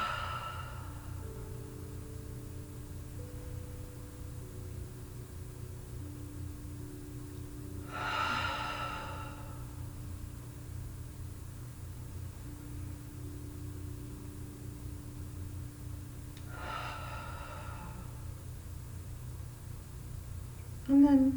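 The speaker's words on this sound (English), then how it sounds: "taking 3 deep breaths. So inhale through the nose," Two slow, deep breaths during a calm yoga self-care session, each drawn in through the nose and released through the mouth, soft and breathy, about nine seconds apart over a steady low hum.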